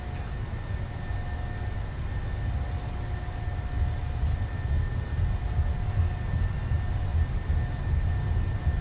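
A simulated Boeing 737-700 in the PMDG flight simulator rumbles down the runway on its takeoff roll, a steady low jet-engine roar with faint whining tones holding at an even level for nearly nine seconds, without speech.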